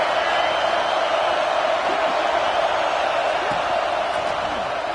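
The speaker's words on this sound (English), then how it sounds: "the crowd coming to life here" Stadium crowd at an American football game, a steady loud roar of cheering with the defense down in the red zone, continuous and broad throughout, with occasional whoops rising above the din.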